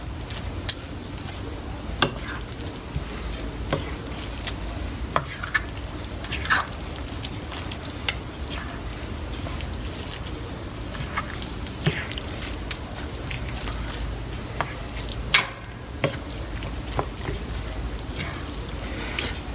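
Vegetable stuffing with raisins is stirred in a pan for Greek stuffed peppers, zucchini and tomatoes, making a continuous moist squishing and scraping with scattered small clicks from the spoon.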